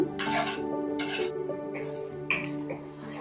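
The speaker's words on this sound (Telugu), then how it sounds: "ఆయిల్ వేడయ్యాక వన్ టేబుల్ స్పూన్ వరకు జీలకర్ర వేస్తున్నాను ఇందులోనే సన్నగా కట్ చేసి పెట్టుకున్న ఆనియన్ వేస్తున్నాను" Chopped onion dropped into hot oil with cumin seeds, frying in a pan with a steady crackling sizzle and some scraping of utensils against the pan, no voices.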